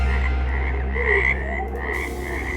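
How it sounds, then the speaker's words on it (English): Frogs croak steadily from inside a flush toilet in a bathroom, a dense, continuous chorus of calls held at close range without a break for the whole stretch. "The dunny's full of frogs!"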